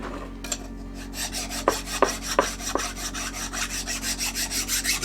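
A hand file rasps burrs off the edge of a shop-made metal set-up block in a workshop, steady back-and-forth strokes close to the mic, growing into a quick regular rhythm after a few sharper scrapes.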